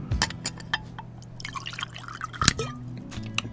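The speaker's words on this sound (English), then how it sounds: "Pour my alcohol as usual" Alcohol pouring into a glass, with a few close, sharp liquid drips and splashes over a low steady hum, no voices.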